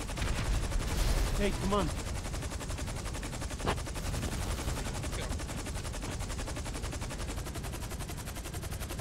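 Sustained automatic gunfire from a car chase in GTA V, dense rapid bursts running throughout at steady loudness, with shouting voices over it early on.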